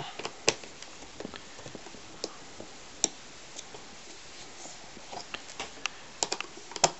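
Screws are being removed from the door panel of a 2014 Honda Civic DX, giving scattered faint clicks and ticks with a few sharper taps, irregular and close by over a quiet background.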